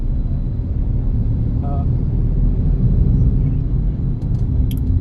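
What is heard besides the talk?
car being driven, road noise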